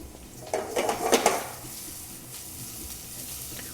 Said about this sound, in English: As we're getting these mushrooms sauteed, we'll add those in.